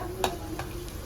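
Dried red chillies tempering in hot oil with cumin seeds, a soft continuous sizzle broken by a couple of brief spoon scrapes against the pan.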